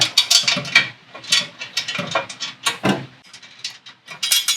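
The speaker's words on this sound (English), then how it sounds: "I'm gonna put 2 bolts back in it" A hand tool drives bolts back in on an all-wheel-drive Mustang under repair, giving close, rapid bursts of mechanical clicking and ratcheting in an uneven rhythm with short pauses.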